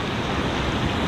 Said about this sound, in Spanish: el mar está medio picado